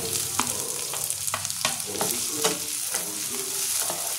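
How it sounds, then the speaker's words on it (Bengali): Ginger, garlic, tomato and green chilli sauté in oil for Punjabi-style Amritsari dal, an even, close sizzle punctuated by rhythmic spatula scrapes and taps against the pan every half second or so. "এটা একটুখানি আমি হালকা কষিয়ে নেব।"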